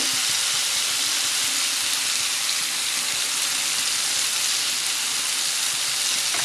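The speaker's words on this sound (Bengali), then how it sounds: "মশলাটা কষানো হচ্ছে" Masala spice paste sautéing in a pan for a Bengali batasio fish curry, a dense, steady broadband sizzle that holds constant throughout, close by with no talking.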